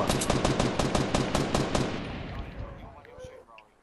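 Rapid automatic gunfire from a squad-based shooter video game, a close, loud burst of evenly spaced shots for about two seconds that then trails off into fading echoes.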